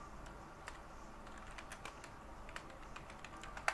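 Quiet, scattered keystrokes on a computer keyboard while entering data into an Excel petty cash spreadsheet, light clicks at an uneven pace with one sharper tap near the end.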